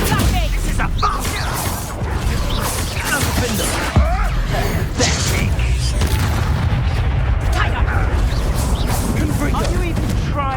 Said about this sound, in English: This is a bomb!